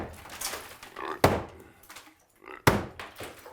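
Heavy tool strikes a wall stud during home demolition, two loud, sharp wooden thunks about a second and a half apart, with lighter knocks between.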